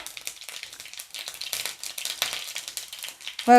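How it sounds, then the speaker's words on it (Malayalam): Rapid, irregular crackling and sputtering pops from seeds bursting in hot oil, dense and close, ending in a louder clatter. "കടുകൊക്കെ പൊട്ടിക്കഴിയുമ്പം"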